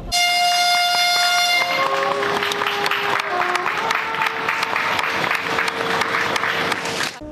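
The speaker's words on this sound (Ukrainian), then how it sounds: "звуки саксофона та гудки потяга" A loud multi-tone train horn blares steadily, then shifts pitch in drawn-out notes while sharp rhythmic clicks and clatter run underneath.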